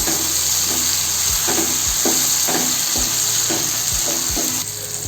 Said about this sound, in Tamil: கத்திரிக்காவை நல்லா வதக்கி விட்டுக்கலாம்